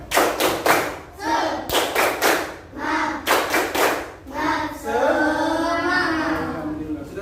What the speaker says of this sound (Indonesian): Bapak ingin mengajak kalian untuk tepuk semangat.